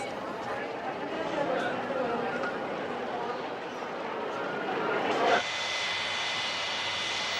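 A steady, broadband roar from the engines of an Aero Peru airliner in flight, heard from a window seat in the cabin, with a voice talking over the constant drone throughout.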